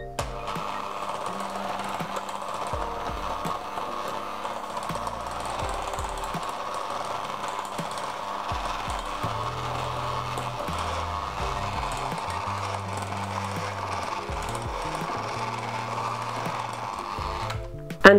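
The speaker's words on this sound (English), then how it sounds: "let your mixer run on low and add in the rest of the buttermilk" An electric mixer runs on low, blending buttermilk into chocolate sheet cake batter. It gives a steady, even mechanical hum for the whole stretch, with faint knocks and rattles underneath.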